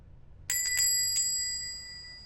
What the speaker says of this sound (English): The door creaked open slowly, announcing his arrival with a bell that jangled once